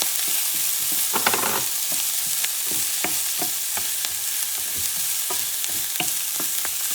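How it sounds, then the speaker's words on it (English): Garlic frying in a pan while a utensil stirs it, giving a steady close sizzle broken by repeated clicks and scrapes, with a busier cluster of strokes early on and no voices. "You don't want the garlic to burn, so you stir"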